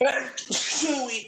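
A single sharp sneeze bursts out close by, mixed in with a brief spoken voice before and after it.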